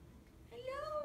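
A cat gives a single short rising meow near the end, fairly soft, after a moment of quiet room noise.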